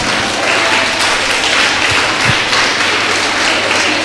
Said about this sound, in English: Yes, yes, give her a clap.